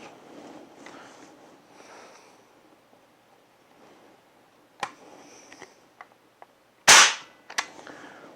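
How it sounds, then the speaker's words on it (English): A Sheridan Blue Streak pump pellet air rifle fires once with a sharp, loud crack, followed by brief metallic clicks and handling noise over quiet room ambience. "release the safety, and gently pull the trigger."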